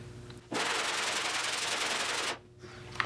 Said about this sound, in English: I'm gonna take 40 grit sandpaper for here